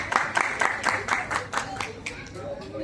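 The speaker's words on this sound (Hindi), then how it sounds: "जोरदार तालियां।" At a Diwali gathering in Bhubaneswar, an audience gives a short burst of applause, a series of distinct claps that thin out and fade quickly.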